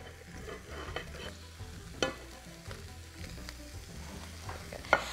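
Red bell pepper, onion, celery and bay leaves frying in a pan, a quiet steady sizzle broken by a few soft stirring knocks and clinks.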